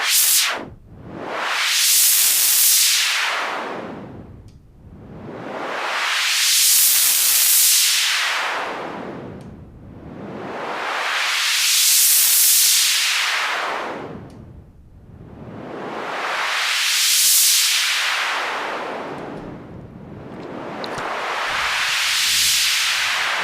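Synthesized sweep effect from a Sylenth1 soft synth, a loud filtered white-noise swoosh rising and falling in five slow, regular waves, each cutoff sweep opening to a bright hiss and closing to a dull rush, with no voices.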